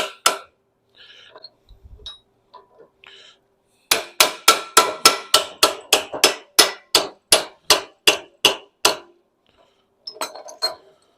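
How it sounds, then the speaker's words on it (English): A bent metal part from a rusted old racing car is struck with a hammer while clamped in a vise: a few scattered taps, then a rapid, steady run of about seventeen sharp, ringing metallic blows, loud and close, then a few lighter taps. "I'll put it in the vise. We'll just tink it around and get it where we want it to be."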